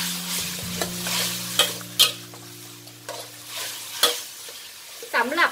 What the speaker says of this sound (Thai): แล้วใส่ใบกะเพราที่เราหั่นไว้แล้วลงไปเลยค่ะ